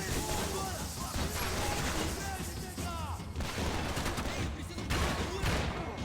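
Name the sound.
gunfire in the video game Max Payne 3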